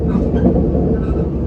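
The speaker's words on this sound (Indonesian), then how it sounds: "itu kereta yang lewat itu cuma kereta api komuter lain Jenggala ini" A Jenggala commuter train rolls past on its rail line, a steady close rumble of wheels and carriages filling the whole moment with no voices.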